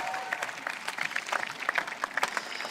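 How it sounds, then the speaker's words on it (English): A modest audience at a city address claps for a councilwoman, giving light, scattered applause heard from a distance that stays fairly faint throughout. "Can we give her one more round of applause?"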